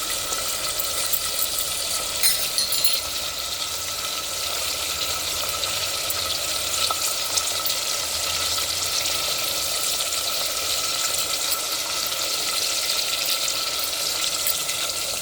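Mutton frying with ginger garlic paste for a kulfi mutton mango curry, a steady, dense sizzle that carries on without a break and sounds close and fairly loud.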